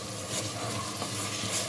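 Cut tomato pieces frying with ginger garlic paste in hot oil, a dense continuous sizzle with light stirring, close and even throughout, no voices.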